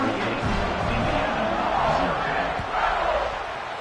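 Home crowd at a college football game involving Indiana, a dense roar of stadium cheering that swells and holds, loud and continuous with broad crowd noise filling the space.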